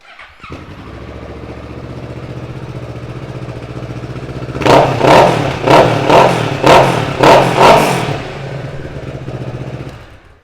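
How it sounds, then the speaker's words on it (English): A 2019 Kawasaki Z650 ABS motorcycle starts up and idles, then gets a string of about six sharp throttle blips fired in quick succession through its aftermarket exhaust before settling back to a steady idle, close and loud. "let's give it a quick cheeky start up."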